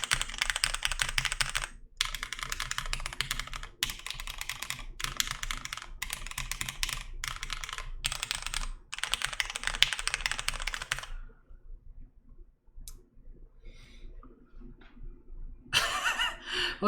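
Clacky typing on an OTD 356 Mini V1 mechanical keyboard with lubed vintage black 55g switches, close and steady in rapid bursts broken by short pauses, then fading to quiet with a few isolated keystrokes and a final flurry.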